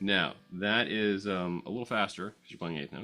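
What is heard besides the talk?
No everyday noises stand out.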